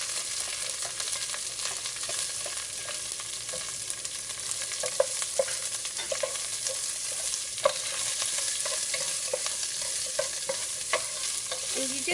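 Onions sizzle in hot oil already flavored with curry leaves and pandan (rampa) for a chicken curry with potatoes, making a constant, moderate hiss with light stirring clicks and scrapes throughout.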